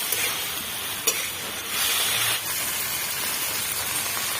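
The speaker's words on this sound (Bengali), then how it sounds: "এবার মাখা মাছগুলো তেলের মধ্যে দিয়ে দেব" Small marinated fish sizzling as they go into hot oil in a kadai, a steady broadband hiss with a brief sharp crackle near the start and a louder burst midway, heard alone without talk.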